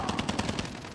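Rapid automatic gunfire in Call of Duty Mobile battle royale, a fast, even burst of about six shots that fades into a dull rumble, fairly loud and close.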